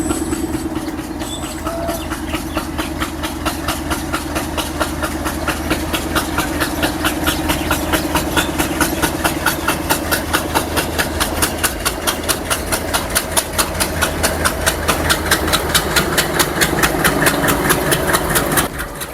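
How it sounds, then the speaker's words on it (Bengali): A train rumbles steadily across the historic Hardinge Bridge at Paksey station, Pabna, with a continuous loud engine drone and rhythmic clacking of wheels over rail joints building toward the end. "এই রেলটি এখন আমাদের চোখের সামনে দিয়ে এই ঐতিহাসিক হার্ডিঞ্জ ব্রিজের উপর দিয়ে পার হয়ে দেশের এক প্রান্ত থেকে অন্য প্রান্তে চলে যাবে"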